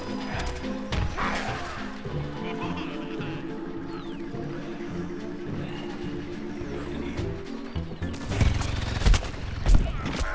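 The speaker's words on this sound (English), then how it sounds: "I love the rapid fire, though." Rapid-fire weapon shooting in the online shooter Plants vs. Zombies Garden Warfare, a dense stream of game gunfire and impacts running throughout, swelling louder with crashes near the end.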